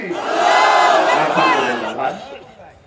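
A large religious gathering answers a takbir call with a loud unified chant, many voices rising together, holding for about two seconds, then fading out.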